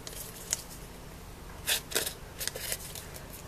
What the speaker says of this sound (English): just cut them up. I have 2 here, so let me just cut it up into squares.